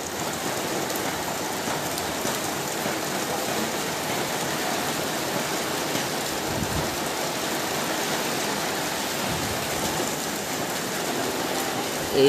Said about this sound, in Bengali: বৃষ্টির গতিবেগ ক্রমশই বাড়তে শুরু করেছে